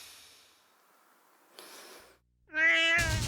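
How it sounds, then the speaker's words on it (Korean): A cat meows in a rising, drawn-out call near the end, after a brief breathy rustle, heard close and fairly loud with no talking. "고양이 소리 아니야?"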